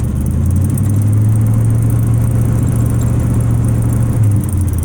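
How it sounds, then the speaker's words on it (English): A rat rod's engine idles steadily with the manual choke pushed back in, giving a continuous low, even rumble that is loud and close throughout, with no talk over it. "You can hear the motor back in."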